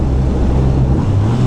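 BMW R1250R motorcycle engine revving briefly inside a tunnel, a loud, close, low rumbling roar that holds steady with heavy echo and wind buffeting.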